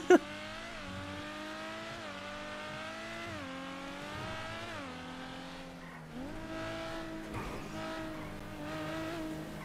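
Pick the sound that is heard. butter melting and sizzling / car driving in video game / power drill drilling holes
car driving in video game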